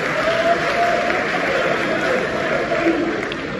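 Audience applause fills the space with steady, dense clapping from a large crowd. It holds loud and unbroken throughout, and no voices stand out above it.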